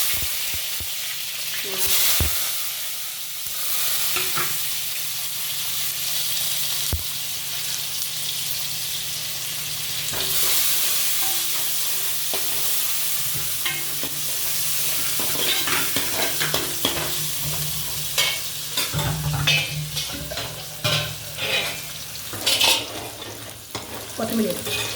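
Dried red chillies and cumin seeds sputter in hot oil in a pan, a loud, sustained crackling sizzle with stirring scrapes and bursts of popping that grow busier toward the end, heard up close without speech.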